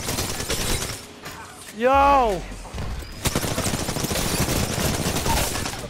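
Gunfire bursts in the Apex Legends battle royale game, rapid shots running through much of the moment alongside game effects, with a player calling out over the action.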